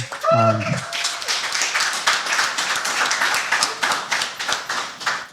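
An audience claps for a podcast guest, Dr. Ismail D. Badjie, in a steady, dense round of applause lasting several seconds, preceded by a brief voice at the start.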